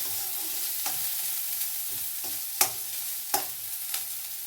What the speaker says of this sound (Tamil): பாருங்கள், ஓமம் பொரிஞ்சிடுச்சு. வெங்காயம் போட்டிருக்கேன்.